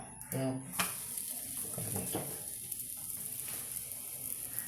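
Chapati cooking with oil on a hot pan gives a steady, close sizzle and frying hiss throughout, with a few clinks and scraping stirs early on.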